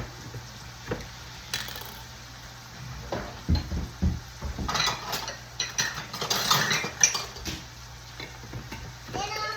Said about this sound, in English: And then I have some of my jalapenos. I'm going to cut up a few of those